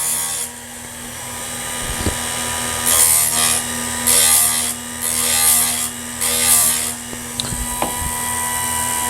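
A Chicago Electric chainsaw sharpener grinding chainsaw teeth, a constant motor hum broken by four short, harsh grinding bursts of stone on metal, close and without talk.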